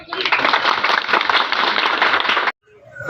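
Audience applause at a Labour Day event in Okara breaks out as dense, steady clapping for about two and a half seconds, then cuts off abruptly.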